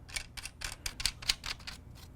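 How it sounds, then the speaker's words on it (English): A small plastic leg lock on an Orion Observer 80ST telescope tripod is twisted into its side socket, making a quick series of about ten light, close clicks and ratchet-like ticks. "grab one of the leg locks and thread it into the socket on the side"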